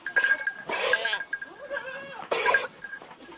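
Farm goats bleat in a few separate wavering calls, fairly close, with a pause between the bursts and faint livestock background.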